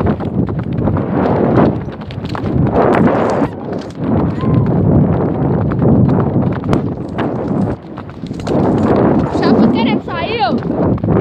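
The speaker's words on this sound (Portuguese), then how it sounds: "Eu tô aqui com o cavalo" A horse ridden outdoors through a creek crossing gives loud, close clip-clopping hoofbeats in an irregular gallop-like rhythm, with wind buffeting the microphone and a brief whinny near the end.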